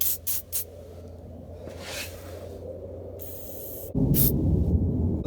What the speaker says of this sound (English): I like to just go ahead and soak down all the bolts that hold this cross member in and the differential